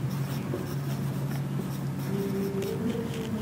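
Pen or marker writing on a board during a tax lecture, producing a soft, continuous scratching that runs steadily under faint room noise.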